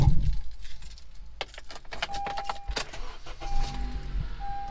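A set of Honda CR-V car keys jangles and rattles up close inside the car, with a few clinks and scrapes and faint electronic chimes in the background.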